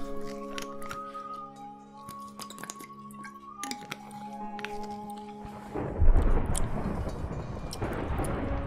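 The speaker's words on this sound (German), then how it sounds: "das Gewitter hört man bis hier runter" Thunderstorm rumbling in the video game Nebelchroniken: quiet ambient tones give way to a deep, swelling thunder roll that builds loud and lingers as a broad rumble, with no speech.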